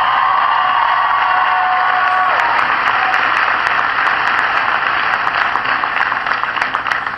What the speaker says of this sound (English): give George a big round of applause for that introduction